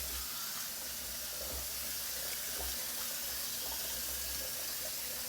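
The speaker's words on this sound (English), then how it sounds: "nice cold water rinse" A tap runs steadily into a sink while the face is rinsed with cold water after a straight-razor shave, a constant broadband hiss with faint splashes and no talking.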